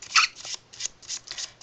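Lenormand fortune-telling cards shuffled by hand in several quick riffling bursts with short pauses between, close and clear with no talking.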